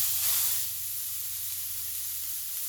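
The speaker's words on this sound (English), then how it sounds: "And then we are going to put this patty into our pan." A hamburger patty hits a hot pan with a loud burst of hissing spray, then settles into a steady, even sizzle, close and alone with no talking.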